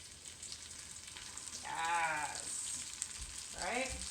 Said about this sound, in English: So we're gonna hear a nice little sizzle when we add it.